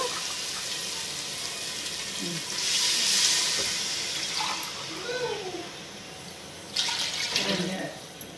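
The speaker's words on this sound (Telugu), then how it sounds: "ఇప్పుడు 3 కప్పులు వాటర్ అయితే వేసుకుంటున్నాము" Water poured from cups into rice for country-chicken biryani, in two splashing bursts of pouring over a steady background hiss, with a person talking.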